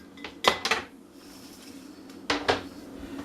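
Mizuna pickle with chili pepper is mixed in a bowl, making two brief clusters of near clattering utensil knocks against the dish over a quiet background, with no speech.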